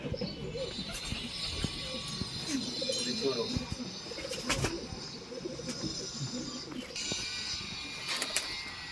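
Punjabi pigeons with black eyes coo softly and steadily alongside other birds, with scattered clicks and a few louder bursts breaking through the cluttered background.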